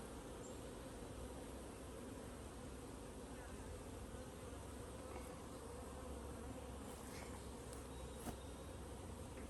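Honey bees from wild-caught swarms buzzing around their hives during honey production, a steady, dense drone of many wings close by, continuous for the whole stretch with no talk.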